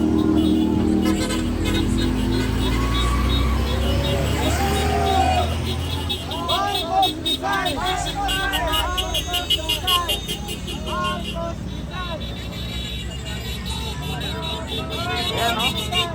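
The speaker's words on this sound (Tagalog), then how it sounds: "Imagine mo lahat ng bumubusina dyan eh, suportado yan." Passing cars and buses on a street sound their horns in protest against corruption, with short toots and longer blasts rising over steady traffic rumble and a murmur of crowd voices throughout.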